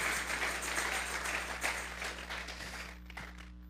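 Church congregation applauding during a sermon, a steady wash of clapping throughout that thins and fades toward the end.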